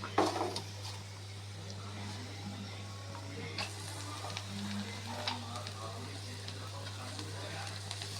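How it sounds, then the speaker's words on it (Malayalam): Spinach sizzles in a pan with fried chillies, a faint, steady frying hiss over a constant low electrical hum. "മുളക് മൂത്ത് നല്ല സ്മെല്ലൊക്കെ വന്നു നമുക്കിതിലേക്ക് നമ്മുടെ ചീര ഇടാം"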